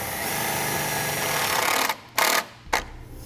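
A power drill whines steadily while driving self-tapping screws to mount a battery charge line breaker under a plate on a 2017 vehicle, then stops and gives two short bursts, loud and close.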